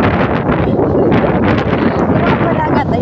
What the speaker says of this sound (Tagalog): ayun, medyo mahangin